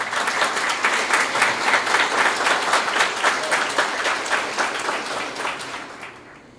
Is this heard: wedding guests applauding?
yes